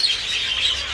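Birds in an aviary chirp in a dense, overlapping chorus of high bright tweets, steady and close throughout a brief moment.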